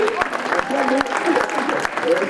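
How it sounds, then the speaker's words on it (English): A small gathering claps for the people from the commune of Grézac at a rally season event, with scattered, sharp hand claps mixed under overlapping voices for a couple of seconds. "On les applaudit."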